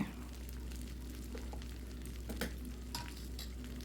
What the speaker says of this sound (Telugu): ఇది కొంచెం మంచి కళాయి అందుకని అడుగు అంటకుండా చక్కగా వేగుతుంది